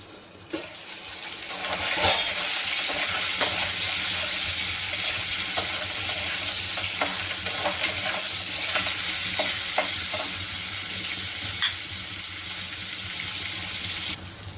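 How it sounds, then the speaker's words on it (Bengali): Crabs frying in oil in a covered pan give a steady, busy sizzle with scattered pops and crackles throughout, close and fairly loud with no talk. "ভালো করে ঢাকা দিয়ে ভেজে নেব।"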